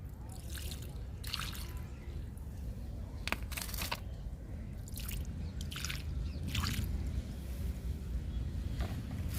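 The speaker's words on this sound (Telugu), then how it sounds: "కొలియాస్ కొమ్మలకు కూడా వాటర్ ఇస్తున్నా." Coleus cuttings planted in soil-filled pots are watered, giving scattered drips, soft splashes and squishy, soaking sounds at irregular intervals over a low background.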